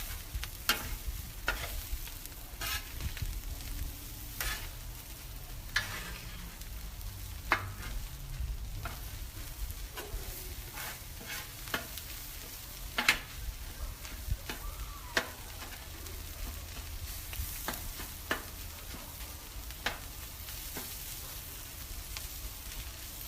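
Corn stirred and sizzling on a Blackstone griddle: a continuous frying hiss broken by repeated scraping clicks of a spatula against the flat-top, close and moderately loud, with no talking.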